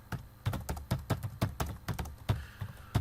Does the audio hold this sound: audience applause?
no